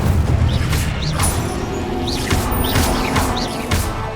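An Incendio fire spell in the game Hogwarts Legacy erupts as a loud, dense burst of crackling, whooshing flame noise, with several sharp bright impacts and chirping magical effects layered over a rumbling low roar.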